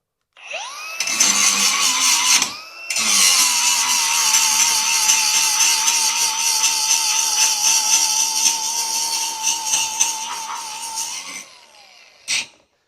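A cordless 20V DCA 4-1/2 inch angle grinder cuts through thick steel, a loud sustained whine and grinding screech that starts, stops briefly, then runs steadily for about nine seconds before spinning down, followed by a short final burst.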